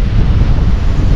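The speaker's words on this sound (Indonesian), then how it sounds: "sepertinya kondisi ombak di pagi ini cukup besar teman-teman" Big sea waves at a remote island roar as a dense, continuous wash mixed with wind buffeting on the microphone, loud and close throughout with no voices.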